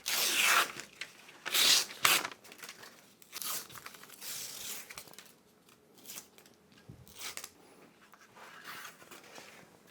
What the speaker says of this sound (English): Let's begin by removing paper where indicated.